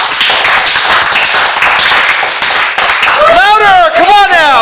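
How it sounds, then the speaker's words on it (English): Audience applause greeting a guest speaker at a weekly business networking meeting in San Jose, dense and loud clapping throughout, with a voice briefly rising over it near the end. "So without further ado, let's give a big round of applause for Miss Kim."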